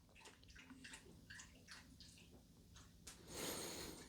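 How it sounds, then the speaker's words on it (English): A dog laps water from its bowl, a quiet run of wet slurping and dripping close by, with no voices. "that sound you heard was my dog drinking water"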